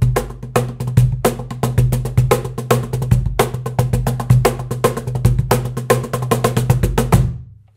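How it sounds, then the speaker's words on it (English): A Peruvian cajon, played while seated on it, thumps out a steady, lively groove of deep bass hits and sharper slaps that repeat quickly for several seconds, close and loud, before stopping. "my boom boom drum is a cajon from Peru and I sit on it to play it"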